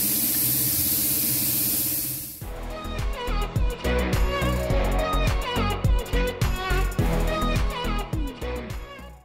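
Aerosol grease sprayed onto motorcycle cable connectors: a steady, close hiss lasting a couple of seconds, then cut off and replaced by rhythmic music.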